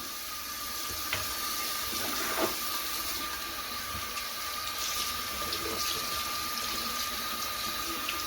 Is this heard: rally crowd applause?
no